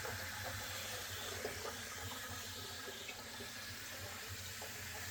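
Steady running rice water pours and trickles through a strainer at close range, a continuous wash of splashing with no talking.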